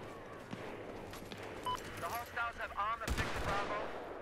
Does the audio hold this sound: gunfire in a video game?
yes